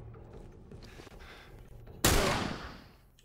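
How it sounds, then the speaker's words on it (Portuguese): Cannon shot in The Last of Us gameplay, one sudden loud blast midway that rings out and slowly fades, after quieter game ambience and faint rumble. "Esse aqui é um tiro de canhão."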